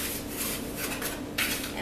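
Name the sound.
whisking dry gluten-free cookie ingredients in a bowl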